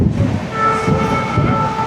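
The 12556 Gorakhdham Express runs between stations in India. The carriage gives a steady low rumble with faint wheel rhythm and a sustained whining tone from the rolling train.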